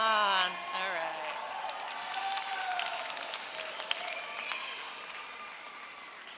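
Graduates at a Hofstra University commencement cheer and applaud in a large venue, a distant wash of clapping and whoops following a voice trailing off at the start, moderately faint and reverberant.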